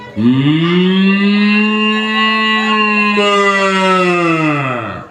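A person imitates a cow's moo, one long sustained, loud, harmonic lowing call held steadily for about five seconds, close and alone.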